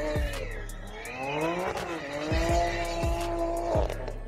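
Several cars in a BMW M Power montage: engine and exhaust roar with rising and falling revs, tire squeal and skidding, and sharp transient pops. The sound is loud and continuous with no speech over it.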